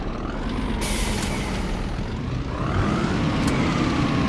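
A truck's air handbrake is worked while the rig sits stuck with a trailer on the road, giving a sharp hiss of released air over the steady loud rumble of the idling engine, with a second short hiss shortly after.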